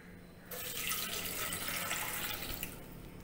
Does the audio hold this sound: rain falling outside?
no